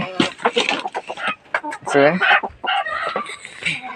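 Chickens cluck and a rooster calls out nearby, loud and busy, with a person talking over the birds.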